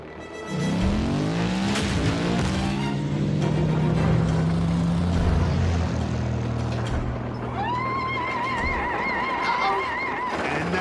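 In an animated Transformers Prime episode, a motorcycle engine roars up in pitch and holds a loud, steady drone, then a high whine rises near the end.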